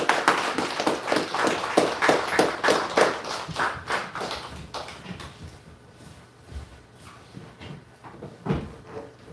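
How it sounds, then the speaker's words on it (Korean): A church congregation at a Sunday morning worship service breaks into applause, a dense burst of many hands clapping that gradually thins and fades to scattered claps near the end. "다시 한번 큰 박수로."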